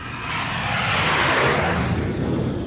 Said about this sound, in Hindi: भारतीय वायुसेना के विमान सरहद पर गरज रहे हैं।